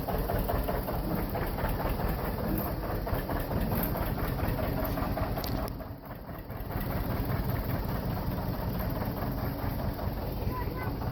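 A John Deere 730 tractor, belt started and running for the first time in eight years, chugs steadily up close with a continuous rough engine drone and wind buffeting, a brief dip midway, with voices nearby.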